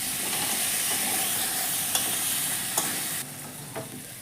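Pre-fried potatoes are sautéed with spices in a pan for katla fish teljhal, giving a close, steady sizzle with a few sharp stirring knocks, and the hiss drops noticeably partway through. No one speaks.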